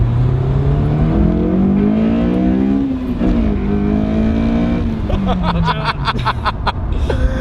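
A Honda S2000 engine revs hard into VTEC and climbs in pitch, the note swelling and falling with throttle, while voices exclaim and laugh near the end.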